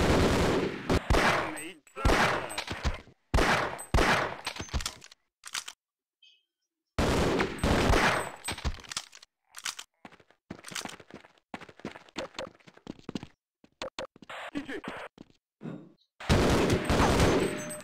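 Gunfire in the video game Half-Life: Freeman's Return, repeated sharp shots in bursts and single cracks with brief silent gaps, loud and close, with a little talk among them.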